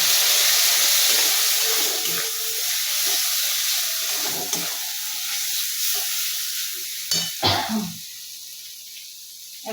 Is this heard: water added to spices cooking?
yes